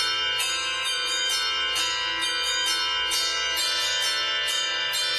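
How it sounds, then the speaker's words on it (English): Bells ring out a rapid, repeating melody in the style of Carol of the Bells, bright and fairly loud with no talking over them. "This is how the Carol Bells is usually played?"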